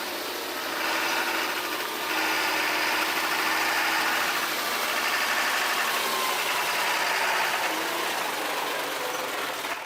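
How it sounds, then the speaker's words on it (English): A Mercedes-Benz Actros tractor-trailer truck runs its engine at a sawmill gate, a loud, steady broadband rumble with no pauses and no voices. "the tractor-trailer truck just entered the gate of the sawmill"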